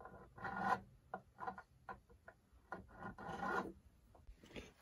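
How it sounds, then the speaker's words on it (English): A hand file rasps burrs off the sharp fret corners of an Esteban AL 100 acoustic-electric guitar, a close, quiet series of short scraping strokes in an uneven rhythm, with pauses between them and no talking. "I'm going to go ahead and hit some of these sharp corners with a file just to take the burr out."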